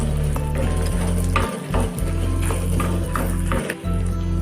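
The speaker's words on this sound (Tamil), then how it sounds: "இந்த சின்ன வெங்காயத்தை நல்லா வதக்கிக்கலாம்" Small onions sautéing in a pan for Pallipalayam country chicken, a steady loud sizzle with occasional stirring taps, close and continuous with no speech.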